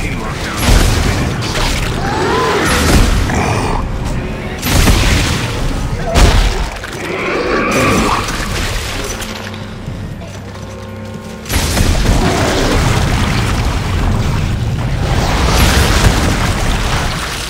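Detonation in the sci-fi horror game Dead Space 3: heavy booming blasts with rumbling, crackling debris and mechanical clatter, loud and close, recurring in several surges across the span amid game sound effects.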